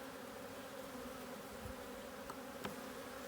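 A soft, steady hum of many honeybees buzzing together in a hive, a low continuous drone with faint occasional clicks close by.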